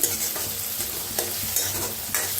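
Chopped tomatoes and dal roast in a pan, with a steady close sizzle under repeated scraping stirs of a spoon, a few sharper strokes standing out.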